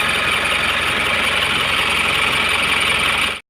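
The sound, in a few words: overhauled Isuzu 4HL1 diesel engine running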